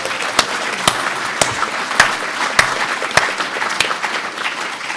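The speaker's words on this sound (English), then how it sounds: "Applause." A church general assembly session applauds with sparse, spaced claps standing out sharply over a soft continuous background murmur, the individual hits recurring at roughly half-second intervals throughout.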